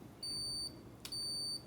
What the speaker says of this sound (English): it gives off this really annoying beeping noise